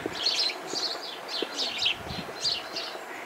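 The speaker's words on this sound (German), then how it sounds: "Hier in diesen Hecken hört man unheimlich viele Vögel." Many small birds sing and chirp in roadside hedges near a pond, with repeated bright twittering phrases in short bursts over faint outdoor background, fairly close and clear.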